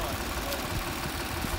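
A New Holland 3630 tractor engine idles with a steady low rumble and faint knocking, loud and continuous with no pauses.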